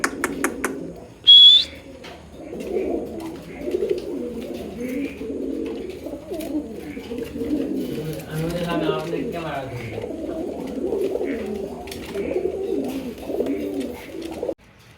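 A pair of Indian Lotan pigeons coo in low, rolling, continuous phrases close by, with a brief high whistle-like note near the start and possible voices in the background.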